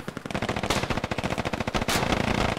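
Rapid automatic gunfire in the military shooter game Squad during a large river crossing assault with suppressing fire, a dense, loud, continuous stream of sharp shots with several overlapping weapons.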